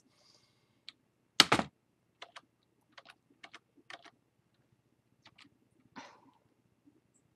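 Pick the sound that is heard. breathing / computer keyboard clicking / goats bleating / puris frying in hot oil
computer keyboard clicking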